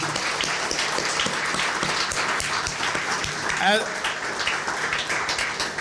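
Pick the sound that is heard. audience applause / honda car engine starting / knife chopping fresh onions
audience applause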